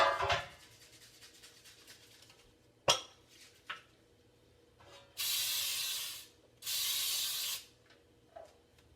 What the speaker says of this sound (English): we're going to need to spray our pan with nonstick spray